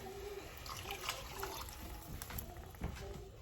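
Water pours from a cup into a cooking pot for Puerto Rican rice, a soft splashing trickle in short bursts, quiet and close, with a faint voice in the background.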